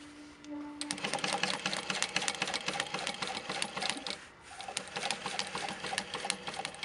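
A Juki DU-1181N industrial walking-foot sewing machine stitches fabric in quick runs of rapid, even needle clatter with a short pause midway, fairly close and alone without talk.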